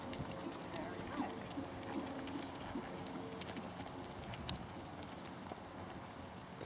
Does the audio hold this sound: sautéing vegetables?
no